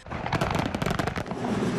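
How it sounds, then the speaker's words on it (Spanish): Independence Day fireworks over the National Mall in Washington, a rapid cluster of crackling bursts and pops, loud and dense, fading into a rumbling tail. "el cielo sobre el National Mall se iluminó con uno de los espectáculos de fuegos artificiales más famosos del mundo"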